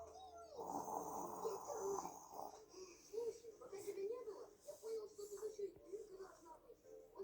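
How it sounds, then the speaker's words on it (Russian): A young boy snores while asleep, soft, rough breaths repeating in an uneven rhythm, heard close and quiet with a few faint vocal sounds mixed in. "Храпишь, что ли? Спишь?"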